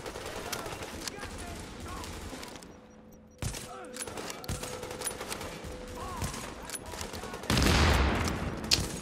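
Rapid bursts of gunfire from a firefight in The Division, set in Manhattan and played on PC, crackle through the whole stretch beneath game ambience and a few voices, swelling louder near the end.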